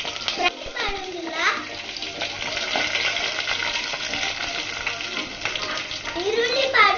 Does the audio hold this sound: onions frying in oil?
yes